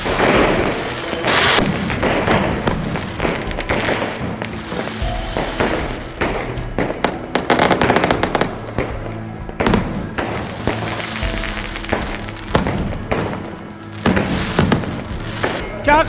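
Dense, continuous barrage of fireworks bursts and booming thuds at a Radha Rani birth celebration at the temple in Barsana, loud and near with overlapping crackles, voices and crowd noise mixed underneath.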